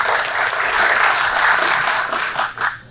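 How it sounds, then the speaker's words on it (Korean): Warm audience applause for a speaker at a conference on Jeju ODA projects, dense clapping throughout that thins and fades in the final moments. "따뜻한 박수"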